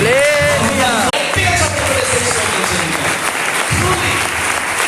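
A church congregation breaks into loud, sustained applause that fills the room, with a voice rising over the clapping near the start.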